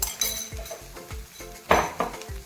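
Flour and khoa stirred together in a pan for bakery-style barfi made from ghee residue, giving a steady run of spoon scrapes and clinks against the metal, close and fairly quiet.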